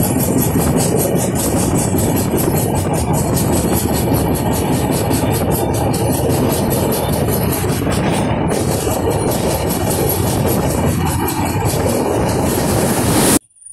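The Santragachi–Bhopal Humsafar Express roars loudly and continuously at close range, with rhythmic clickety-clack of the wheels and rumbling carriages. The sound cuts off abruptly at the end.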